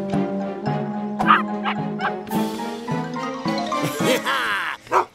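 Cartoon dogs barking and yipping in quick, bright bursts during an animated race scene, loud and close, with jingling and a short voiced sound at the end.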